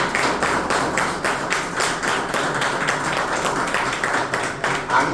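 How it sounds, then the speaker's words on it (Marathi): An audience claps for an invited guest: a steady, dense wash of applause that runs unbroken throughout and never fades. "यासाठी तुम्हाला सरांसाठी सगळ्यांनी टाळ्या वाजवा."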